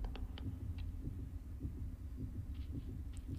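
A slow, muffled heartbeat thumps in Little Nightmares, a steady low pulse repeating about twice a second beneath a faint hum, with a few soft clicks from gameplay over it.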